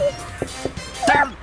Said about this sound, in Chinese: 比如说小狗叫的话，他邻居就会来这边看看怎么回事。